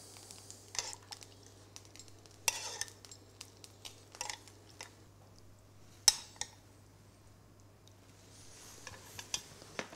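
Spoon clinking and scraping in a pan while sauce is spooned over hake in a sweet chilli, scallion, coriander and lime butter sauce, with scattered soft taps and one sharper clink over a steady low hum.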